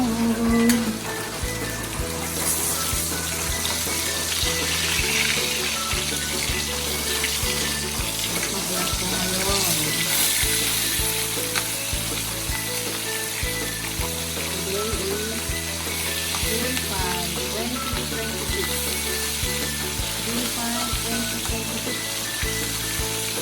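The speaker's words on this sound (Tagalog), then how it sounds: "Tingnan natin, piniprito na rin galunggong." Galunggong (round scad) fish fry in a pan of oil with a continuous loud sizzle and crackle, alongside running tap water and kitchen clatter throughout.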